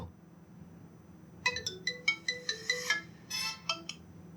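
A melodic phone ringtone plays alone: a quick series of bright, chiming tones followed by a short sustained burst, clear and close.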